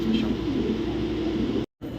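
Racing pigeons coo in low, soft, repeated warbles, close and fairly loud, with a brief cut near the end; no clear talking.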